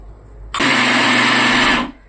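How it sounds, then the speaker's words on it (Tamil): After a moment of near silence, a kitchen mixer grinder switches on with a loud, harsh whir grinding soaked rice with coconut water, runs steadily for over a second, then cuts off. "நான் கொஞ்சமாக இருக்கிறதுனால மிக்சியில் அரைச்சிட்ருக்கேன்"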